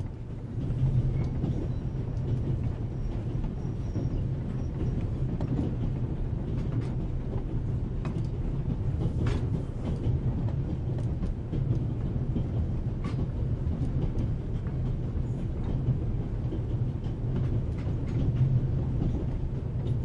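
Aboard a moving train in The Raven Remastered, a constant low rumble with steady rhythmic wheel clatter and faint rattling carries on evenly throughout, with no voices.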